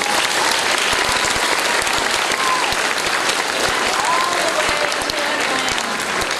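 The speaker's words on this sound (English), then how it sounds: "deserves a huge round of applause" Loud, dense applause from a large audience at an elementary school 5th grade closing ceremony, continuous clapping throughout with a faint murmur of voices mixed in.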